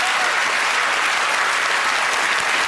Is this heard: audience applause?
yes